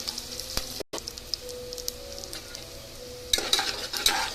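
Cumin, ajwain and fenugreek seeds fry in hot oil on low flame, giving a steady soft sizzle with occasional clinks and scrapes of a spoon against the pan; a brief dropout midway, then livelier crackling and stirring near the end.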